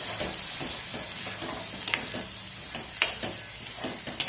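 Spiced masala for a sprouted moth bean curry roasting in oil with water added, giving a steady close sizzle and fry with sharp scraping stirs of a spoon against the pan at intervals; no voices.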